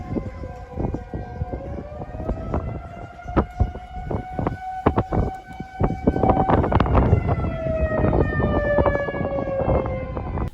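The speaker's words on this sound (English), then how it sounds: "Take a good tornado siren," A wailing tornado siren rises and falls in long, loud tones, joined by sharp rhythmic clanks and knocks through the first half.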